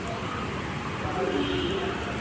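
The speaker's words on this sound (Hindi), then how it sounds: "शानदार बारिश हो रही है" Steady rain falls across the open grounds and trees of the Delhi University law campus, a constant soft hiss with no distinct drops.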